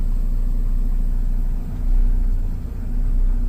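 A truck engine idles low and steady with a continuous rumble while the vehicle sits in drive straining against its engaged parking brake, the load dipping briefly near the middle.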